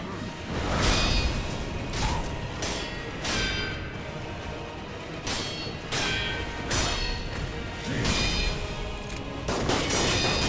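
Gunshots from Isshin's gun in Sekiro ring out as repeated sharp blasts in quick volleys over dense combat noise, with clanging deflections and whooshes, loud and close throughout.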